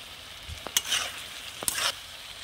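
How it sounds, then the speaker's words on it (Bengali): A spatula stirs chalta pickle through hot oil, two brief scraping strokes over a soft background sizzle. "তো এই যে আমি খুন্তি দিয়ে নাড়া শুরু করে দিয়েছি।"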